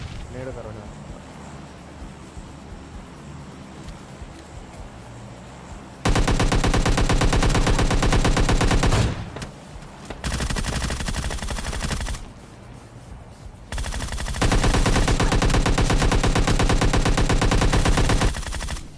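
Sustained bursts of rapid automatic gunfire in PUBG Mobile Lite roar loudly in long stretches, separated by quieter pauses, with a voice talking throughout.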